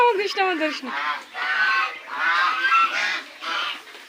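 Geese on a field honking in a run of close, harsh calls, the first ones rising and falling in pitch and the later ones coming in steady bursts.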